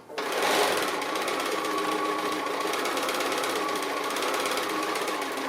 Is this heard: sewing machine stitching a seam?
yes